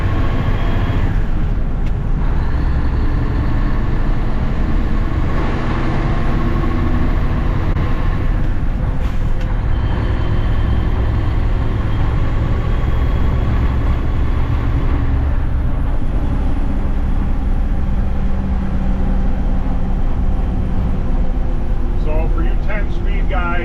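A 1988 Mack DM dump truck with a 13-speed double-overdrive transmission, heard from the cab as it pulls through the gears. A deep, loud diesel rumble rises and dips at several shifts, with cab rattles and voices over it.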